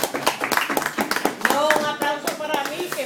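An audience at a salsa and Latin jazz festival in Barcelona claps, sharp scattered hand claps that are loud and close, with people talking over them throughout.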